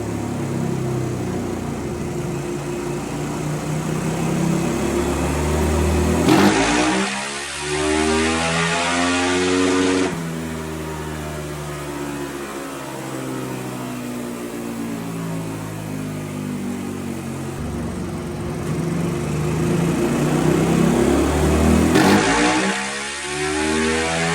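A Yamaha YFZ 450 ATV race engine revs hard on a dyno, climbing through long sweeping pulls with sharp shifts of pitch, dropping back and winding up again, loud and close throughout.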